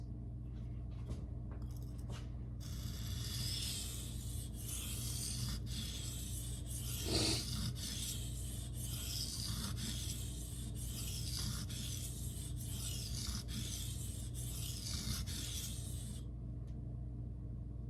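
A knife blade is sharpened freehand on a Shapton Glass whetstone, with rhythmic abrasive scraping strokes rubbing back and forth in close, steady succession, quiet and alone without speech.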